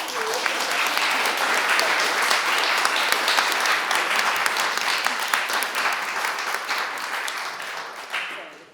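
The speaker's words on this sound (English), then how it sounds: "And a round of applause for..." An audience at a symposium session on weaving breaks into a sustained round of applause, full and even clapping that fades out toward the close.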